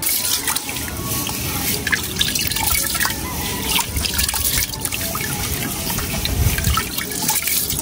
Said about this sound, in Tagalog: Hugasan ko po muna itong bigas.